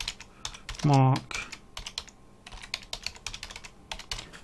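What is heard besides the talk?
typing on a computer keyboard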